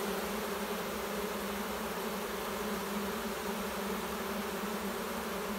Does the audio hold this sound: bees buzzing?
yes